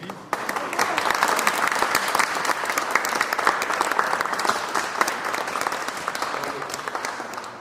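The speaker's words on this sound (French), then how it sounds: "Alors, applaudissons pour l'engagement qu'ils prennent aujourd'hui." A congregation at a baptism claps together in warm, continuous applause, fairly even in level and filling the room from start to finish.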